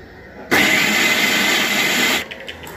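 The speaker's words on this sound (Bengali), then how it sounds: "দেখো ডালটাকে আমি এখন পেস্ট করব। তো যার জন্য আমি চলে এসেছি মেশিনের কাছে।" An electric blender grinds soaked biuli dal into paste, a loud steady whirring roar that starts abruptly and runs for nearly two seconds before cutting off, then faint clatter.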